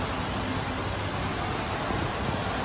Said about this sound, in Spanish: El tráfico fuerte.